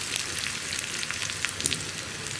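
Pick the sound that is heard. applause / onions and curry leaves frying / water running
onions and curry leaves frying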